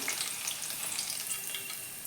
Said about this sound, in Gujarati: આમાંથી મોઇશ્ચર નીકળી જાય ત્યાં સુધી આપણે ફ્રાય કરી લેવાના છે.